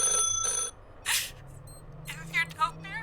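Telephone ringing in the video game The Last Caretaker: two short trilling rings at the start, then quiet room tone and brief breathy vocal sounds.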